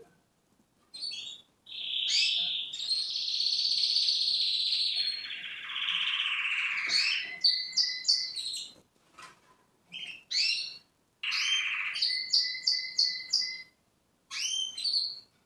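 Caged canaries chirp and sing up close in a cage being set up for nesting, with long bright warbling trills broken by short bursts of sharp repeated tweets and brief pauses.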